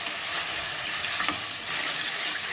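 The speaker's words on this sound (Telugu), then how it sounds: "టొమాటోస్ వేస్తే బాగా కలుపుతాము" Tomatoes stirred into a frying potato curry, a steady broadband sizzle with soft stirring scrapes running throughout, close and continuous with no voices.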